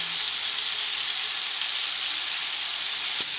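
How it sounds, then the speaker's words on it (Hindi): Chicken on a hot tawa with spiced yogurt poured over it sends up a loud, even, hissing sizzle that runs without a break for several seconds, with no talking. "ये मसाले वाला जो दही है इसको चिकन के ऊपर डालते हैं।"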